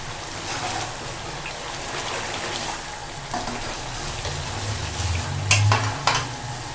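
Boneless chicken sizzles and fries in a handi while being stirred, a steady close hiss with occasional louder scraping clicks of a spoon against the pot.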